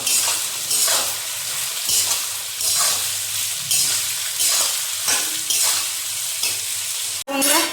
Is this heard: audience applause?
no